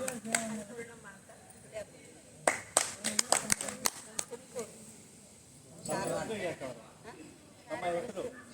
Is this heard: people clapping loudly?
yes